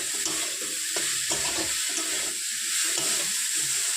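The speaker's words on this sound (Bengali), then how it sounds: "আবারও কিছু সময় ভালোভাবে কষিয়ে নেব ভেজে নেব" Water spinach (kolmi shak) fries in hot oil in a pan, cooked rural style. A steady, close sizzle is broken by soft scraping as the greens are stirred, with no voices.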